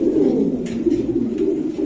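Silver Hammer pigeons coo steadily at close range in a low, rolling murmur, with overlapping calls and no voices.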